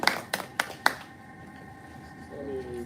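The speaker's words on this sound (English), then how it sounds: "Can we clap again?" An audience claps in a few short, separate bursts during a pitching session, the first claps loud and close, then fading into room tone with a faint voice near the end.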